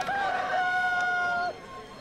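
A rooster gives a single clear crow, a drawn-out cock-a-doodle-doo held for about a second and a half, loud and near, with nothing else sounding.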